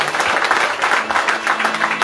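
An audience at a Hindu Ramayan katha gathering applauds in a dense, loud, close burst of clapping lasting a couple of seconds.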